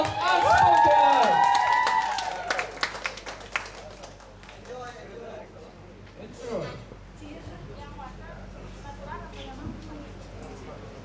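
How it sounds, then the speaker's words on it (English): Audience at a Bali poetry slam open mic breaks into applause and cheering voices, loud and full for the first couple of seconds, then thins into scattered claps and low crowd murmur. "give applause to open mic of Unspoken"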